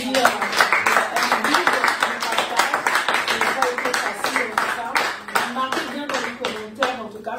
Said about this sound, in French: Est-ce qu'on peut quand même applaudir?